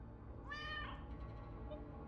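A cat in a video game gives a single clear, rising meow when petted, set against a steady low background hum.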